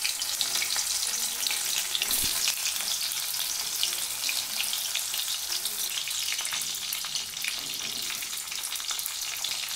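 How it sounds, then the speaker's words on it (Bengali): Cauliflower florets frying in white oil and ghee in a pan, a steady bright sizzle with faint crackles throughout, close up and with no talk. "ফুলকপিগুলোকে ভাজতে দিয়ে দেব।"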